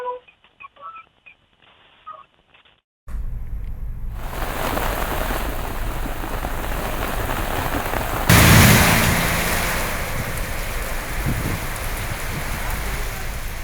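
Heavy, wind-driven rain pours down in Thiruvarur as a dense, steady roar that swells louder partway through, after a few seconds of faint muffled voices at the start.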